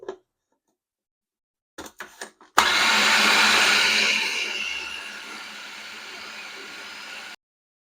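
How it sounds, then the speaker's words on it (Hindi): An electric chopper whirs loudly and steadily for several seconds as it minces chicken with bread crumbs, after a few short clicks and knocks, then cuts off abruptly. "कीमा मैंने निकाल लिया चॉपर से"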